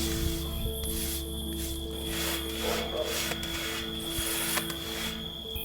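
A brush spreads rust-stop coating onto steel stair beams, giving a continuous soft rubbing and swishing close by over steady background hum and tonal noise.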